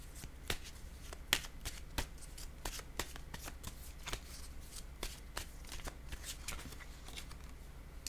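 Tarot cards being shuffled close by make a series of crisp riffling bursts and sharp card snaps at an irregular, quick rhythm, with no talking.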